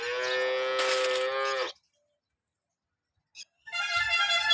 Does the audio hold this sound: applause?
no